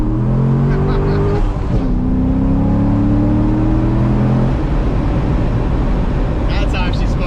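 A Corvette accelerating hard with its wheels spinning, the engine's droning tone climbing steadily and loud nearby, then easing off into a rougher rumble.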